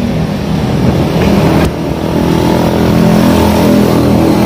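A car drives past a motor workshop on a quiet morning, its engine droning loud and close in a steady roar with a brief dip midway before rising again.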